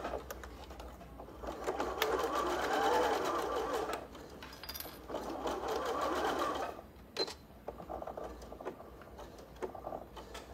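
A sewing machine stitches a seam in a fabric shop, running in long steady bursts of fast mechanical whirring and needle clatter, stopping and starting again, fairly quiet and close, with no talking.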